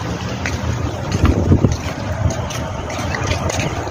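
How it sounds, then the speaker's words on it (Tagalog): Strong gusts of wind in a park buffet the microphone in a continuous rumbling roar, swelling around the middle, with no talking. "Mahangin."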